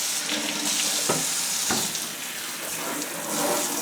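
A steady stream of tap water splashes over a Phalaenopsis orchid in bud during a rinse, a continuous close hiss with a few brief louder spatters.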